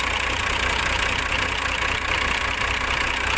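A Howo 380 truck diesel engine with a worn fuel injector idles loudly and steadily nearby, a continuous rough rumble with a faint knocking texture and no talk.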